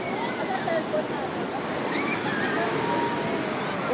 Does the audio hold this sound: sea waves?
yes